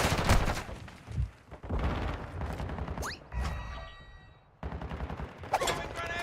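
Gunfire and grenade blasts in the Call of Duty MW3 video game, with dense bursts of shooting and explosions and a rising whoosh midway, under steady talk.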